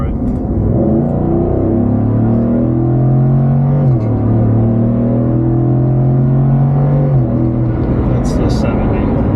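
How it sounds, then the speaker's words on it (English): A 2018 Ford F-150 with the 5.0 Coyote V8 and a Flowmaster 70 series exhaust with a 3-inch resonator accelerating at wide open throttle, a loud, steady engine drone rising and falling in pitch as it shifts through gears, heard from inside the cab. "go to wide open throttle just so you can kind of hear it."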